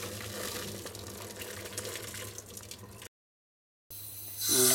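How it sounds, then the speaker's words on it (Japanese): Hot water poured out of a pot of boiled eggs into a sink: a steady close gush of running water, a brief silent cut, then a louder splashing rush at the end. "さあ、これをちょっとだけお湯を捨てて"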